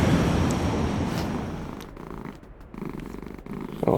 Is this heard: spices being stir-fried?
no